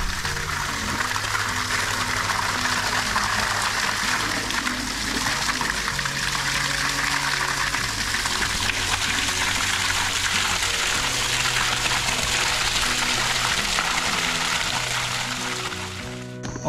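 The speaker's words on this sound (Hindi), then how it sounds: "वीडियो में जैसे आप देख रहे हैं पानी में हम इसको भर रहे हैं" Water gushes steadily into a 10-litre collapsible water bag, a continuous close splashing trickle running for the whole stretch with no talk over it.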